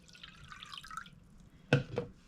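Water splashes and trickles briefly as it is poured into a bowl for takoyaki batter, followed by two sharper splashy bursts near the end, close and fairly quiet.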